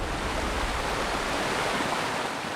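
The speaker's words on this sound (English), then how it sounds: "You've got a river running through the middle of Bondi." Rainwater rushes like a river across Bondi Beach in a steady, dense wash of flowing water, close and continuous, with no voices over it.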